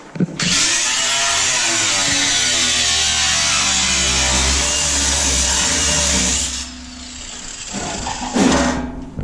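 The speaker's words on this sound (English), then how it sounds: "It's always good to grind with sparks shooting up towards you" An angle grinder cuts loudly into metal car floor pans, a steady high-pitched whine and rasp running continuously for about six seconds, then dropping off briefly before surging again near the end.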